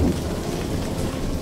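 A thunderstorm in an animated children's cartoon brings a steady rush of rain with deep rumbling thunder beneath it, continuous and fairly loud, with no talking.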